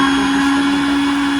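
A mixer grinder whirs steadily while blending a strawberry shake, a loud, continuous motor drone with a strong steady hum heard close up and alone.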